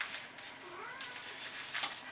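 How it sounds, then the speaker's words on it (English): Domestic cats hissing and yowling at each other somewhere in a room, faint and in the background, with several short bursts and a drawn-out whining cry in the middle. "my cats are hissing at each other in the background"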